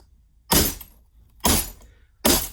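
Glass breaking in a home experiment, three sharp bursts of shattering at roughly one-second intervals, loud and close, each crash followed by a short tinkling decay.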